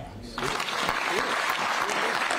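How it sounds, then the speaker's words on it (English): A room of people at a New York Jets news conference welcoming Aaron Rodgers bursts into applause after a brief voice, the clapping rising abruptly and continuing dense and even, with a few murmurs mixed in. "I just like to have a round of applause"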